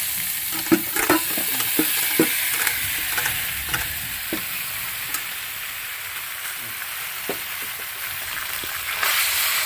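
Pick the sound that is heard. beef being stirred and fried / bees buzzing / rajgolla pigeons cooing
beef being stirred and fried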